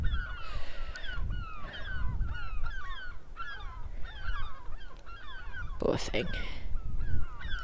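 Seagulls on a beach calling agitatedly, a steady run of repeated loud squawks and cries at mid distance with one nearby rustling burst, while a person speaks briefly.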